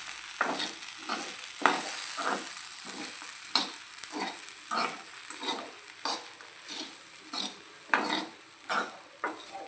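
Rayalaseema-style ugani with salt is stirred in a pan: close, rhythmic scraping strokes of a spoon against the pan over a faint sizzle, with no talk.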